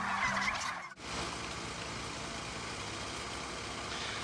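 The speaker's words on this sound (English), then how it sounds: "they're bringing a flock in now to move in with a bigger bunch" A flock of free-range turkeys gobbles in a chorus of warbling calls at a ranch, then a sudden cut gives way to steady crowded turkey chatter and ranch noise at moderate distance.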